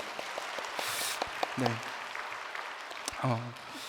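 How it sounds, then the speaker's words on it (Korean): A church congregation at a Sunday evening service applauds in a soft, continuous patter while a voice keeps talking over the clapping. "이럴 때 박수해 주시는 거예요."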